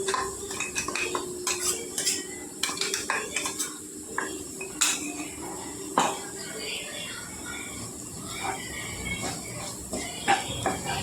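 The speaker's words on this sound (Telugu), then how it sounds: "ఇదంతా కలిపి కలిసేలా కలుపుకోవాలండి" Repeated scraping and clinking of a utensil stirring potatoes with garlic chili powder in a bowl, irregular and close, with a faint voice in the background.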